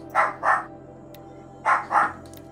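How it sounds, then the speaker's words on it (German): A dog barks in two quick double bursts, yapping twice, pausing, then yapping twice again, fairly close over a low steady background hum, reacting to a ferret's sneezing. "Und jetzt hört ihr noch ein Hund, der sich darüber aufregt, dass das Frettchen niest"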